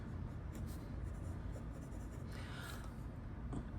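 A Jinhao Centennial fountain pen with a medium nib and sky blue ink writes on paper, giving a faint, steady scratching of nib on paper that runs throughout with small swells.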